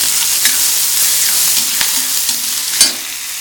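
Onions sautéing in a pan for idli thakkali, a steady loud sizzle with occasional sharp clinks and scrapes of stirring, no talk.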